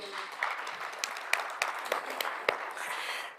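Audience applause fills a stakeholder conference room with a dense, moderately quiet wash of clapping and a few sharper individual claps standing out.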